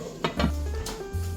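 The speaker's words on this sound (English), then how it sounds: "put the lid on" Metal lid clanks onto a cooking pot of meatballs in tomato and pomegranate molasses sauce, a couple of quick close knocks over a low background sizzle.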